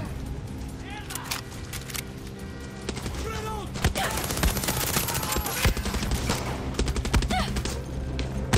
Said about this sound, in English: they're shooting missiles at us